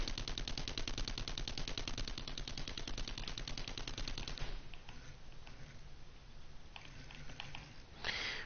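Rapid automatic gunfire from the 7 Days to Die video game chewing into building blocks rattles in a dense, fast burst for about four seconds, then gives way to quieter scattered impacts and a short final crackle.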